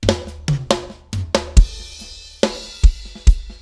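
Solo snare drum in Logic Pro X, its transients shaped by an enveloper plugin, strikes repeatedly in a loose beat with sharp, cracky hits and bass drum thumps, loud and close without any voices.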